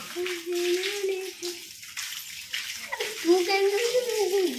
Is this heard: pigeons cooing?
no